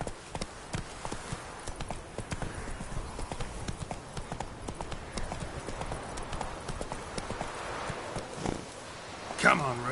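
Steady hoofbeats of the horse Roach in The Witcher 3 clip-clop at a brisk pace beneath a rider's urging voice, with a brief louder swell near the end.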